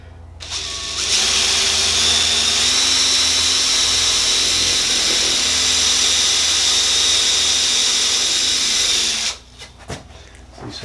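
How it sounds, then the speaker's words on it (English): Power drill boring in at an angle, a loud steady high whine that holds for about eight seconds, then cuts off and leaves a few faint knocks and handling noises. "we're going to drill now in between, just on an angle"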